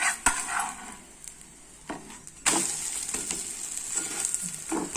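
An egg chapati sizzles in a pan just after being turned, with sharp clacks of the utensil and a surge of frying hiss that then holds steady and close, no speech.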